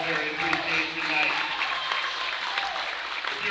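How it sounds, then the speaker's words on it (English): Crowd applause for veterans during Military Appreciation Night at a high school basketball game, a steady broad wash of clapping lasting throughout at moderate loudness. "as we give them a round of applause on Military Appreciation Night"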